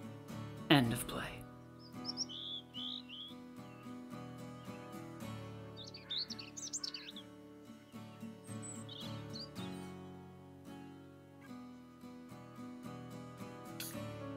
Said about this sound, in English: In the pantry, the bird sings.